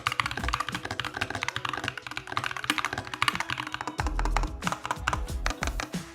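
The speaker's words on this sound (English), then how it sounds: "let's go ahead and get into a sound test of this keyboard" Rapid, steady typing on a mechanical keyboard with red switches, close up, with dense clacking keystrokes and occasional deeper thocks from larger keys.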